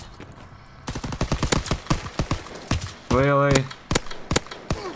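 Rapid, irregular gunshots from a Search and Destroy round of a shooter game crack close and loud, with a short tonal burst partway through and a player's voice speaking briefly.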